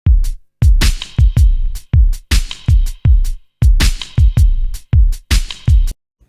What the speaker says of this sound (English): this is one drum loop pattern that was previously recorded.